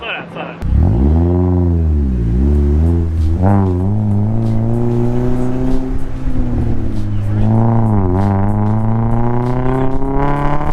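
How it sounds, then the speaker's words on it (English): A Mazda Miata's engine roars as it revs up and accelerates through several manual gear changes, pitch climbing and dropping repeatedly, loud and close. "it's almost more fun to hear this car get up and go when you're not the one driving"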